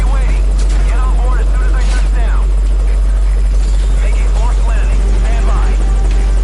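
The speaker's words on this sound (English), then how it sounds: "Put the target on the chopper." A video game helicopter's rotor drones loudly and steadily, its low thrum constant throughout, with game effects and players' voices chattering over it.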